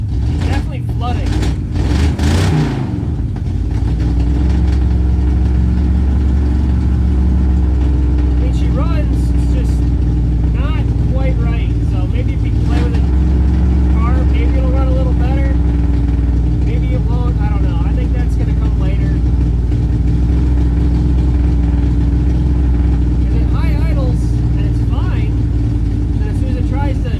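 A 1968 Ford Mustang engine, flooding, runs loudly and close by in a steady, rough idle with a low rumble, while people talk over it.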